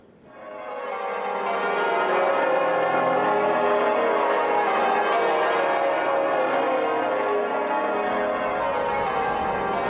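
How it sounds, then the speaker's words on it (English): Liverpool Cathedral's church bells, the highest and heaviest peal in the world, ring out loud and full, swelling in over the first seconds into a dense, sustained wash of overlapping tones. "This is the highest and the heaviest peal of bells in the whole world."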